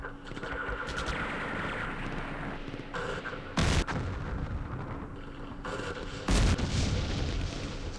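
Machine gun fire and heavy booms ring out in the Campaign Series East Front war game, set at the Battle of Kursk. Sharp loud blasts punctuate a continuous rumble of battle noise, and no voices are heard.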